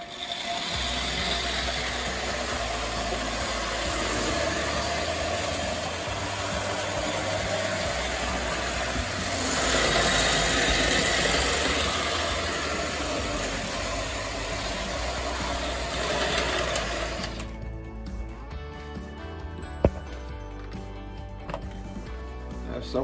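American Flyer O-gauge model train with an operating mail car, running while locked in forward: a continuous motor whir and rolling hum that stops abruptly near the end, leaving quieter small clicks and a single sharp tap.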